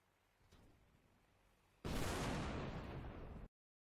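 Bombs exploding in the tank game Total Tank Simulator: a low rumble builds, then a sudden loud blast erupts into a sustained roaring explosion that holds for over a second before cutting off abruptly.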